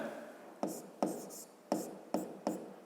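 Pen or pencil writing out a fifth-grade math exercise solution on paper, heard as five short scratchy strokes spaced about half a second apart, close and fairly quiet, with no talking.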